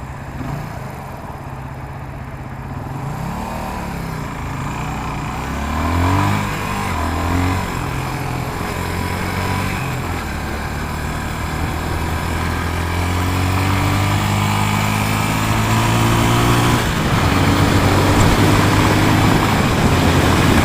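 A Suzuki DR250 motorcycle engine rides steadily and loud throughout, its droning tone climbing in pitch, then dropping and climbing again as the rider shifts up through the gears, without anyone speaking.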